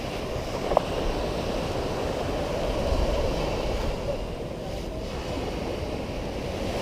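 Ocean surf rolls continuously onto a beach in Tayrona Park, Colombia, a broad steady wash of waves with some wind buffeting the microphone.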